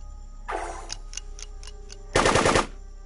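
Gunfire in the video game UFO Aftermath: a dense automatic burst, then several spaced single shots, then a second loud, heavy burst near the end, with no talk.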